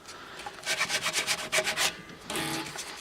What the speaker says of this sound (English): Looks actually not bad considering I'm just using 400 grit sandpaper